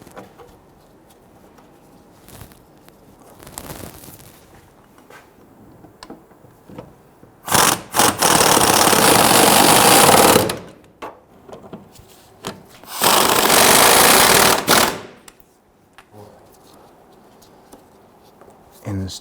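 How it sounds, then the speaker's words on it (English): Power tool bursts tightening bolts on a fuel tank strap of a 2006-2012 Toyota RAV4 3.5L V6, two loud sustained runs of a few seconds each, separated by quieter handling noises. "We're gonna go ahead and install the bolt on the other side, and we'll tighten down our strap."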